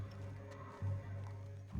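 Horse hooves clopping in the video game Red Dead Redemption 2, a few soft, close thuds over a low steady hum.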